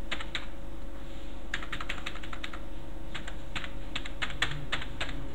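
Steady key clicks on a computer keyboard as a contact number is entered into a form, arriving in short irregular bursts over a constant low hum, close and alone with no voices.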